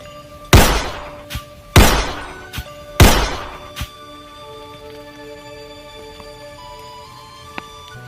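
Gunshots fired at durian fruit in a video game: three loud, sharp thunks in quick succession, each followed by a short lighter knock, then a quieter stretch with a faint tap near the end.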